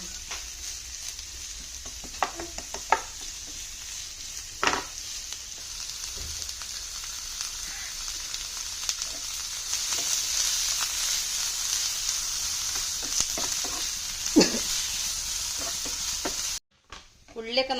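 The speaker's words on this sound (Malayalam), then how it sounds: "നമുക്ക് വലിയ ഉള്ളി ഇട്ട് കൊടുക്കാം. ഇത്തിരി ഉപ്പിട്ടിട്ട് വഴറ്റിയെടുക്കാം കേട്ടോ." Sliced onions sizzle steadily with a pinch of salt in a hot pan while cooking masala for okra, with occasional spoon scrapes and stirring clatter. A voice speaks over the frying.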